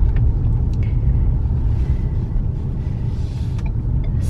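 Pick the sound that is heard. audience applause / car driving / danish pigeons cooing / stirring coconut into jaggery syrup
car driving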